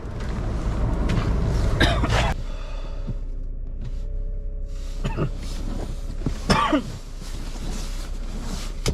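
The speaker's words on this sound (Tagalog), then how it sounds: "Umuubo tayo ng konti" A couple of short, rough coughs from someone nearby, over a steady low engine idle.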